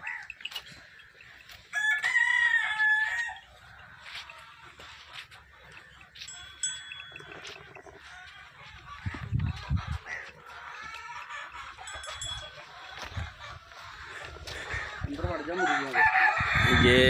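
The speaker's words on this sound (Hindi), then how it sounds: "ये मुर्गी खाना है इनका, यहाँ देसी मुर्गियाँ वगैरह रखी हुई हैं" Desi chickens cluck steadily in a poultry house while a rooster crows loudly and close several times, with busy farmyard background noise throughout.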